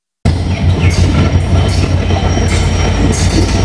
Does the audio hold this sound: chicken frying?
no